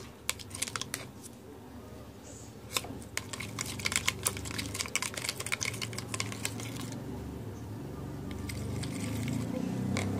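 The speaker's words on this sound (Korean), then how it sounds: "자, 섞어주겠습니다." Marbled slime is worked and mixed by hand, giving irregular sticky clicks and squelchy taps in uneven bursts, fairly quiet and close, over a faint background hum.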